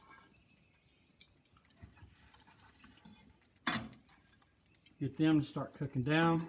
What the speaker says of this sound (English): We'll go ahead and throw these apples in the skillet.